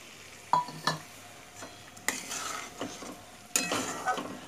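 Paneer and chopped coriander go into a pan of simmering matar paneer gravy, followed by a few sharp spoon scrapes and clacks against the pan over a soft, steady sizzle.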